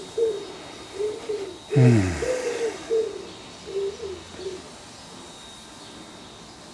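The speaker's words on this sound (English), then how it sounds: "there's a pigeon in the tree behind the camera" A pigeon in a tree coos outdoors in a soft, repeated rhythm of low hooting phrases, moderately close, with one brief louder burst partway through and a quiet background.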